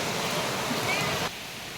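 Continuous rushing water of a flowing river in a Konkan village, loud and broadband, dropping slightly in level toward the end.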